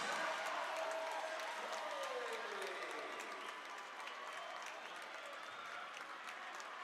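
Big crowd at a high school boys basketball game cheering after a dunk, a loud sustained wash of applause and shouting that holds steady across the stretch, with a tone briefly sliding down early on.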